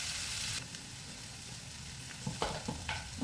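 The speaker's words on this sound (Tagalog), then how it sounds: "nagisa na natin yung ham at saka yung kalabasa" Ham and diced squash (kalabasa) sautéing in a pan for pasta alla zucca, a steady close sizzle with several stirring scrapes and clatters toward the end.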